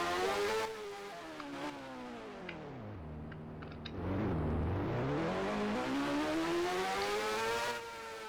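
A motorcycle ridden at night on traffic-filled roads revs up and down with rising and falling engine whine. The pitch dips sharply mid-ride and then climbs again as it accelerates, loud and close throughout.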